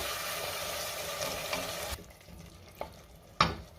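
Masoor pulao masala with yogurt is stirred in a pan over a low flame. A continuous frying sizzle with stirring scrapes is heard, then the sizzle drops away, leaving a few sharp spoon knocks against the pan.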